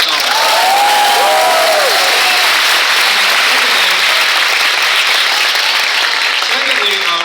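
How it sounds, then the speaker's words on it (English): A crowd at a gaming fan event in Vancouver breaks into loud, sustained applause with some cheering, filling the room from start to finish. "Everybody should give him a round of applause, by the way."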